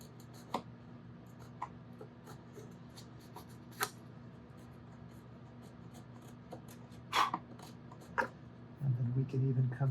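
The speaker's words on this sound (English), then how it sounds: "We can even come in with the tip of the chisel like a scraper here and scrape that down" A chisel tip drags as a scraper over leftover brace material on a steel-string guitar top, giving a few sparse, faint scratchy strokes in a quiet workshop, with a soft low hum and a brief louder rustle at the end.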